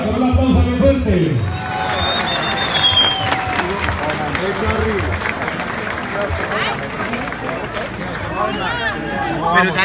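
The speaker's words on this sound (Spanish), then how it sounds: "recibámosla con un aplauso bien fuerte" Rally crowd in Ibagué applauding and cheering to welcome someone speaker, a dense wash of clapping and crowd noise with voices calling out over it throughout.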